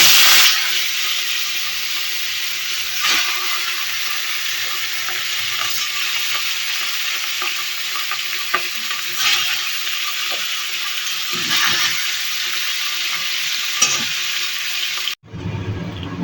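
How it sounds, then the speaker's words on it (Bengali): Pieces of katla fish frying in hot oil, a loud continuous sizzle and hiss with occasional spatula knocks against the pan, no voices, cutting off abruptly at the end. "তেল গরম হয়ে গেছে, এই তেলে একে একে মাছগুলো ভেজে নেব"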